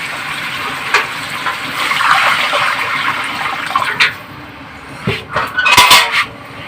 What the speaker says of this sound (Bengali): কষা হয়ে গেলেও জল দিয়ে দিচ্ছি।